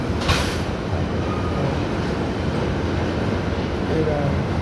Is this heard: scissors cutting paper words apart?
no